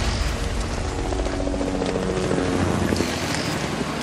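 Tourist helicopters passing overhead, a steady broadband rotor and engine drone holding loud and continuous throughout, with faint rhythmic blade chop and no voices.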